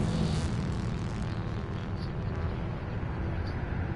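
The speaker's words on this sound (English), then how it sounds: "cleaned the fan, put it all back together again, and it still sounds a bit like a Harrier jump jet" A PS4 console's cooling fan, cleaned but still loud, roars like a jet engine: a constant, broad, full-bodied whoosh that stays steady throughout with no voices.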